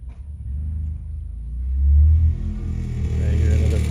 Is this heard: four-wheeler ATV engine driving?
yes